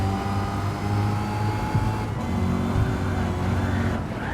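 A race car's engine drones and revs steadily up close, a continuous motor roar with slight pitch shifts and no talk.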